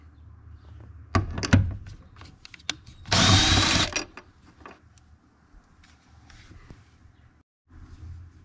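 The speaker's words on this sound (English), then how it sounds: "I always like to start hard bolts with a breaker to get them loose." A breaker bar with a 14 mm socket works loose hard seat bolts in a Nissan 370Z, giving a few sharp metallic clicks and then a loud, rasping burst of about a second, close by with no talking.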